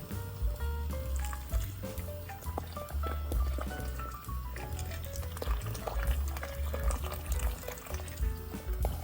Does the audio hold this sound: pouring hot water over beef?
yes